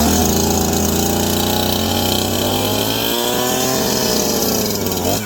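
A small two-stroke chainsaw, just repaired for an air leak, runs loud and close, its engine buzzing steadily with the pitch wavering up and down as the throttle shifts, with no talking.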